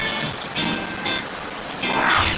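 Rain falls in a steady, dense hiss that fills the clip, loud and close, with slight swells in intensity and no voices.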